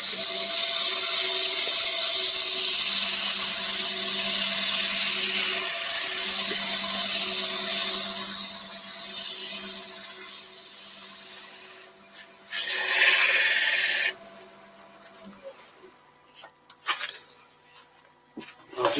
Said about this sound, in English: I should clean off with sanding.